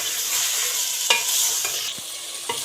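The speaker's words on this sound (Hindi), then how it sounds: "चिकन को जो है वो हम थोड़ा सा जो है इसका कलर होने चाहिए तक इसको फ्राई करेंगे" Chicken frying in a pan for a Mongray chicken sabzi, a bright continuous sizzle with a few scattered spatula clicks, close and steady.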